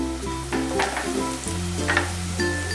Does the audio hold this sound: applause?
no